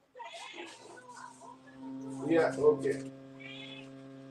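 An elderly cat of 17 meows insistently to be let out, with repeated close yowls mixed with brief talk from people nearby.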